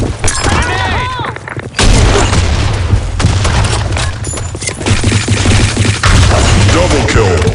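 Loud, dense gunfire and booming grenade blasts from the Blackshot shooter game on a sand storm map, with continuous rattling bursts and heavy explosions that overlap without pause, as voices sound briefly in the mix.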